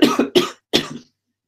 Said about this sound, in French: excusez-moi si je tousse un peu, c'est pas le corona